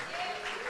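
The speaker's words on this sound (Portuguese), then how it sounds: "Aplaude o Senhor com toda a força" A brief burst of congregational applause during a church service, dense overlapping clapping with a sustained tone and voices mixed in under the clapping.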